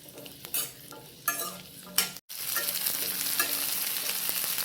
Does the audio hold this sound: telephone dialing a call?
no